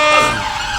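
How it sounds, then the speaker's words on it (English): Emergency vehicle siren outside on a London street, a brief loud wailing tone sliding in pitch, heard clearly without any talking. "Sorry about all the sirens."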